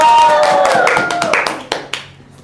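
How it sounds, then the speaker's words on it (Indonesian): A short burst of clapping from a small group during an indoor quiz game, crisp hand claps that start dense and thin out to a few final separate claps, with voices over the start. "Terus, tepuk tangan."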